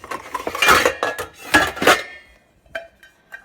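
A metal lid set onto a pot of chicken stew over a low flame, with a cluster of clattering clanks up close, then a pause and a couple of lighter taps as it settles.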